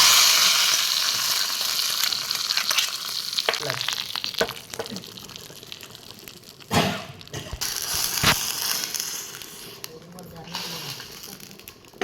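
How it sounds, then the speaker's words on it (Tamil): Dried red chillies and curry leaves frying in hot oil give a steady, close sizzle with crackles, stirring scrapes and a few sharp pops. "இப்போ வந்து ஒரு ரெண்டு வரமிளகாயும் கருவேப்பிலையும் போடுவோம் நல்லா பொறிஞ்சு வளைஞ்சு வரவும் கொட்டிடுறோம்"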